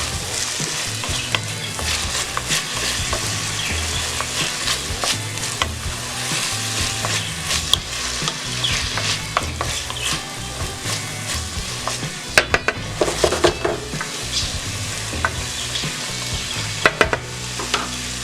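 Carrots sizzle steadily in a hot pan while being stirred, with irregular scraping and clinking of a utensil against the pan over a continuous loud frying hiss, no talking.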